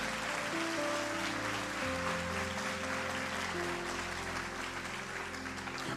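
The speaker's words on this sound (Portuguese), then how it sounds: "Pode aplaudir Jesus isso?" A church congregation breaks into sustained applause, a dense steady clatter of many hands clapping together, with faint voices mixed in.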